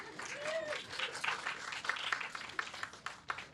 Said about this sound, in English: there's some applause for Peter there.